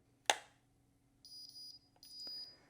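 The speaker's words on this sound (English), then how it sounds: "you'll hear that beep when it's time for you to move the crimper." A sharp click, then a few high-pitched electronic timer beeps from a Wavytalk Power Wave hair crimper sound in short bursts, faint and close in a quiet room.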